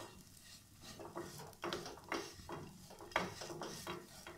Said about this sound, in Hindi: इसे हम 3 से 5 मिनट तक भूनेंगे मीडियम फ्लेम पे।